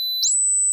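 A 10,000 hertz pure tone from a tone generator, a piercing steady whistle that jumps up from a lower pitch and then holds, loud and continuous.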